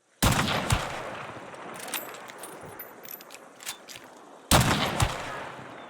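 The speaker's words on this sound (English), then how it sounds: "Weapons should sound tighter and more powerful now." Gunfire in the Hunt Showdown video game: a loud, sharp shot cracks out, followed by scattered smaller reports and a reverberant tail, then a second powerful shot near the end, with no talking.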